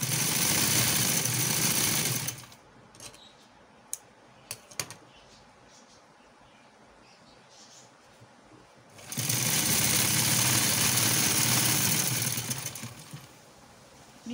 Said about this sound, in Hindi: अब ये समोसा टुकड़ी को पांचे की तरफ करके इसके ऊपर सिलाई लगानी है।